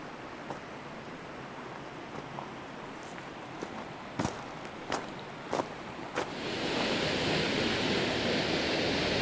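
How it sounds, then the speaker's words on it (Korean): Eunpokpo, a waterfall in a clean valley stream on Naeyeonsan, pours with a steady broad rush that swells louder partway through, with a few sharp knocks and clicks nearby. "저 폭포는 은폭포입니다."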